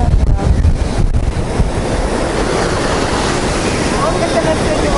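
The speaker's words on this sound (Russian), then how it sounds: "Волна захватывает." Sea waves wash in on a beach at the Azov Sea under gusting wind, a loud broadband rush with buffeting wind noise on the microphone throughout.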